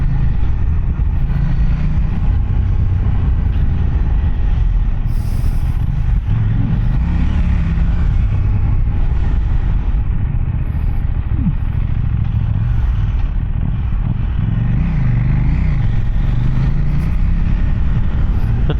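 The engine of a KTM Duke 790 motorcycle drones steadily and loudly during a ride on Malaysian roads, with wind buffeting over the top and small rises and dips in pitch as the throttle shifts, with no talk.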